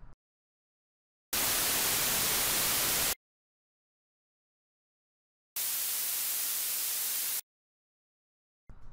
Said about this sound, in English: Let's compare it to white noise.